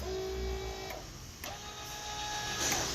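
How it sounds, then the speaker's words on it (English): A power tongue jack on a Coleman Lantern 263BH travel trailer runs with a steady electric motor whine and hum, continuous for a few seconds and fairly close. "Power tongue jack."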